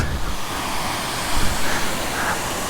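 Rushing water from Devaragundi waterfall fills the air as a steady, broadband roar, fairly loud and close, with no speech over it.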